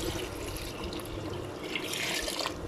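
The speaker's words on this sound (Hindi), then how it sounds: "नमक लगाने के बाद 1 घंटा हो चुका है और अरवियों में अब मैं डाल रही हूँ पानी।" Water is poured into a bowl of salted taro roots (arbi), a close, steady splashing and trickling stream that runs throughout without speech.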